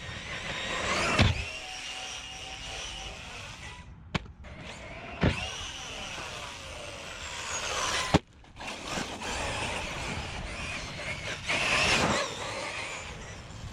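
A Team Corally Sketer RC car runs on 6S power, its electric motor whining and rising in pitch through repeated bursts of acceleration, with sharp clacks and gaps between passes and a fairly close, moderately loud sound.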